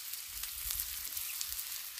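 Chopped onions frying on a Blackstone griddle, a steady soft sizzle with faint crackles and a low rumble underneath, no voices.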